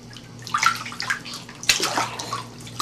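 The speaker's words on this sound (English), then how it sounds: "I love my bath. I love my bath. I love to splish splash." Baby splashing in bath water, bursts of sloshing and slapping water at close range, irregular and uneven, with quieter lapping between the splashes.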